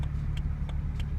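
BMW 335xi engine idling with misfires, a low steady rumble broken by sharp periodic ticks roughly every third of a second, close and uneven in strength.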